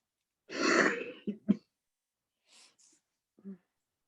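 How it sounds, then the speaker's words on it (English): A single rough cough or throat-clearing sounds up close, followed by a couple of short throaty catches and faint breathy noises in a quiet room. "you just heard a cough"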